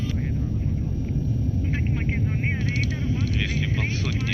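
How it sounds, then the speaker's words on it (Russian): Airplane taking off and lifting off the runway, a steady loud engine roar filling the whole stretch under continuous cockpit radio chatter and crew callouts. "Отрыв самолет в воздухе."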